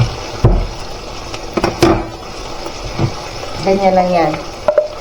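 Pork chops frying in hot, spattering oil in a home kitchen, with a low steady sizzle, scattered sharp pops and clacks of utensils against the pan, as a person talks over the cooking.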